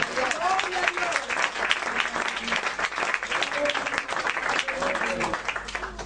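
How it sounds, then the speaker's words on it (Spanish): A church congregation breaks into sustained, dense applause during a pastor's teaching, the clapping filling the room evenly from start to finish with some voices mixed in. "Aplaudamos el nombre de Jesús."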